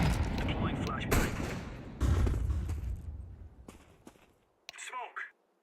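Grenade and flashbang blasts from the game Counter-Strike 2, loud booms and bursts at about the one- and two-second marks that fade into a long tail, with a shorter burst near the end, heard under talk.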